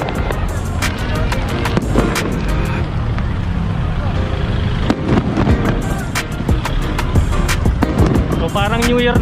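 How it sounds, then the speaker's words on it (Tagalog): Fireworks going off by the seaside at Mall of Asia in Pasay, Manila, a rapid series of sharp cracks and pops amid crowd noise and people talking nearby. "So, pansin nyo, may fireworks na sila dito."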